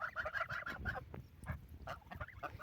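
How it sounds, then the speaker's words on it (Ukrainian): Six-week-old goslings honk and chatter in quick, overlapping calls, a small group close by and fairly quiet. "Так, мої гусенички."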